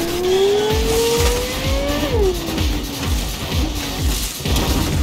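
A car races through a street in Cyberpunk 2077, its engine revving up and shifting down while the tires squeal and skid, loud and close with rapid pulsing exhaust bursts.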